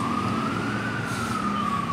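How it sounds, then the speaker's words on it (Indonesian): A fire truck siren sounds along a street in Taiwan, one long steady wailing tone that slowly rises and falls, moderately distant over a low traffic hum, with no voices. "Mobil pemadam kebakaran."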